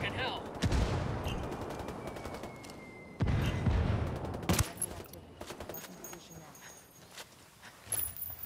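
Gunfire in the tactical shooter Ghost Recon Wildlands: loud bursts and scattered shots recur across the clip, mixed with clattering impacts and voices talking over the fight.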